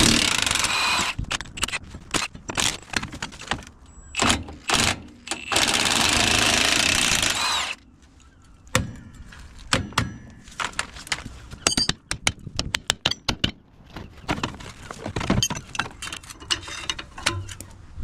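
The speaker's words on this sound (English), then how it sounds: "so let's get these nuts off" Nuts being removed from the IRS trailing arm of a classic VW Beetle 1303/1302 under restoration, loud irregular bursts of a power tool and metallic clanks, with a long steady whir midway, close and without talk.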